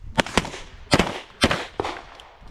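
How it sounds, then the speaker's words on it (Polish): Firearm shots fired in succession during a tactical shooting drill, five sharp cracks at uneven intervals, each with a short decaying tail, fairly close and alone. "I sobie strzelam następowo"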